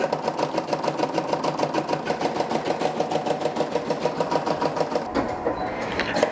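A home embroidery machine stitches out text, a steady, rapid mechanical chatter with a regular pulsing rhythm, loud and close, stopping abruptly near the end.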